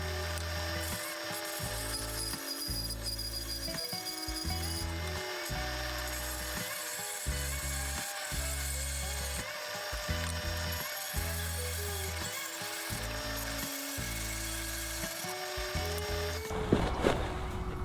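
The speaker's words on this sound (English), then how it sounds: "I cut some of the joinery on the bandsaw." A bandsaw cuts joinery in wood for a sword holder, its motor humming steadily while the blade bites in repeated rhythmic bursts that start and stop, ending with a brief louder clatter.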